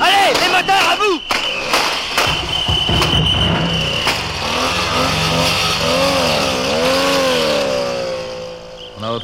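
Car engines roar and rev as vehicles charge through a police roadblock in a chase, loud and near with rising and falling pitch, while voices shout over them.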